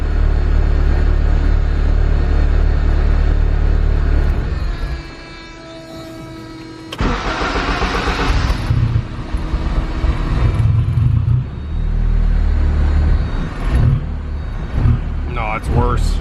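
A built K24 turbo engine in a Honda Civic EP3 stumbles and sags when given gas, a low, uneven rumble that drops out briefly, then returns with rough surges; someone talks over it.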